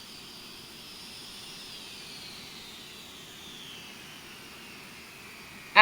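Avro Vulcan jet engines in Microsoft Flight Simulator spooling down, a steady airy whine that slowly falls in pitch over a low rumble, moderately quiet and unbroken.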